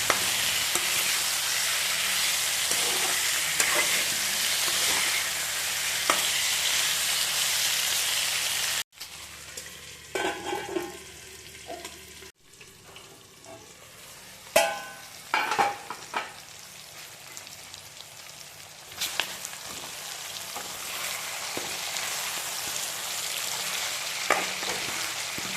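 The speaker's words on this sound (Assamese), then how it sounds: "মাংসখিনি দি লৈ এতিয়া লৰাই দিছোঁ।" Pork and potatoes fry in a pan with taro greens, a loud steady sizzle that cuts out, then returns with scraping, clattering stirs and bursts of crackling up close.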